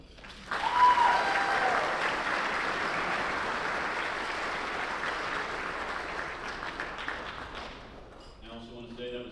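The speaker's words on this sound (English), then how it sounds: "Let's give them another round of applause." Applause from a banquet audience at a student design competition dinner, honoring the organizing committee: dense, sustained clapping from a large room that starts abruptly, holds steady for several seconds, then fades as a voice begins.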